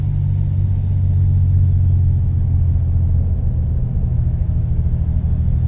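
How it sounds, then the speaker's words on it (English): Peterbilt 389 truck engine in American Truck Simulator, a loud, steady low rumble cruising at a constant pitch with a faint high whine drifting above it, no voices. "This drives so nice, this truck. I love it."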